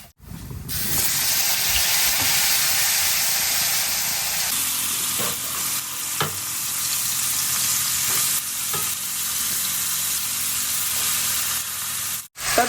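Cumin seeds and asafoetida dropped into hot oil for a tempering crackle and sizzle close up, a steady loud hiss with occasional stirring clicks, no talking.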